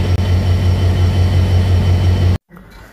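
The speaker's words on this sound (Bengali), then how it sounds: "এই ট্রেনটি ছেড়ে যাবে।" A train pulls away from a station platform with a loud, steady low rumble and grinding wheel noise that holds evenly for over two seconds before cutting off abruptly into near silence.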